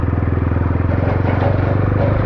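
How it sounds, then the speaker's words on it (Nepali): A motorbike rides slowly along a rough riverside track, its engine putting out a steady low, pulsing throb close by with no talk. "मेरो बाइक चाहिँ स्लो कुदाएर हिट भइसकेको छ"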